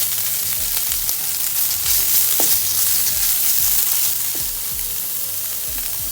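Shredded chicken is stirred into sweet corn soup in a hot pan, with a loud, continuous sizzle and frying hiss and a few soft scraping strokes of the stirring, with no talk.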